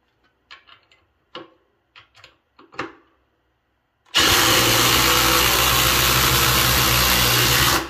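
Cordless impact drivers, a DeWalt DCF887 and a Milwaukee M18 Fuel Gen 4 set to speed 3, start up after several light clicks and then hammer continuously, a loud, close, sustained rattling that lasts about four seconds.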